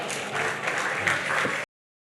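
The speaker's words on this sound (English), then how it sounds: "So give him a round of applause," Audience applause at the Caribbean Global Awards 2023 ceremony, a short burst of crowd clapping at moderate volume that cuts off abruptly after about a second and a half.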